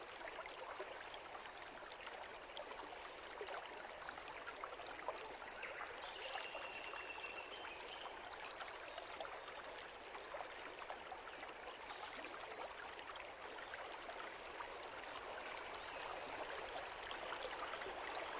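Steady tap water runs continuously at an even, moderate level with no voices, probably a sink faucet left on nearby.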